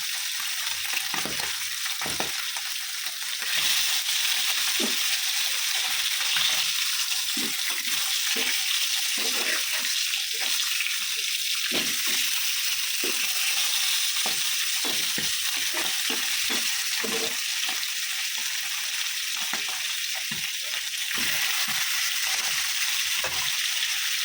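Continuous hissing sizzle of pomfret fish frying in mustard oil throughout, close and even, with occasional soft scraping or stirring sounds.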